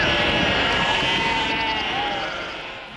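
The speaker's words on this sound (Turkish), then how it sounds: "Sonra giderek çoğalan kuzu ve koyun meleyişleri" A flock of lambs and sheep bleats continuously on the move between summer and winter pastures, many overlapping cries forming a dense, loud chorus that fades slightly toward the end.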